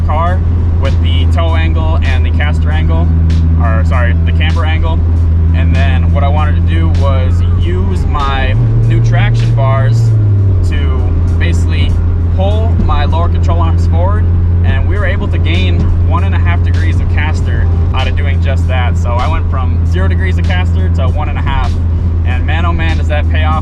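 A turbocharged Honda Civic with VTEC drives along with a loud, steady engine drone whose pitch shifts briefly as revs change, while someone talks over it almost continuously.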